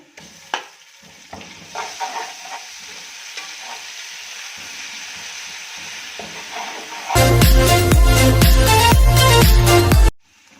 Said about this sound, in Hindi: लहसुन अदरक का पेस्ट डालूंगी 2 टेबल स्पून।